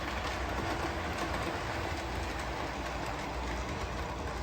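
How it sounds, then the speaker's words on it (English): Long wheelbase model train running on a model railway, a faint continuous rolling rumble with steady track noise and no talking. "So this is the first long wheelbase train around the"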